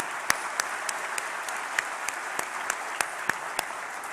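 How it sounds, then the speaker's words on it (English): Convocation audience at a June 2022 university graduation ceremony in Waterloo applauding, a steady wash of clapping from a large hall with a few sharper, closer claps standing out. "would you all join me in a round of applause for Rochelle Monahan, Jennifer Casey, and Dean Clark."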